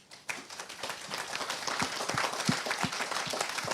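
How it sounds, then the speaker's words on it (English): An audience at a university special lecture applauds the panelists: clapping starts after a brief quiet moment, then builds into steady, moderately close applause with distinct individual claps standing out. "Please applause for their efforts."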